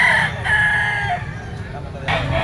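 A white-legged gamecock rooster crows loudly and close, one drawn-out call over faint background noise.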